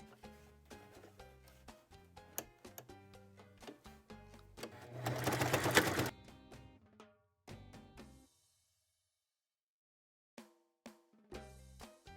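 A domestic sewing machine stitches fabric for a scrub hat, giving close rapid mechanical clatter in several bursts. One loud fast run stands out, and the machine stops and starts between short pauses and a silent gap.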